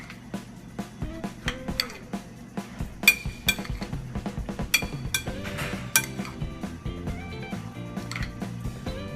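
Cilantro being folded into an eggplant and cucumber salad in a bowl, a run of close clinks and taps of utensils against the bowl in an irregular rhythm.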